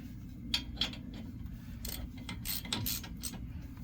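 Lug nuts are snugged onto the front wheel of a 2019 Lexus RX 350 with a ratcheting tool, sharp metallic clicks and rattles arriving in quick irregular bursts over a low steady background.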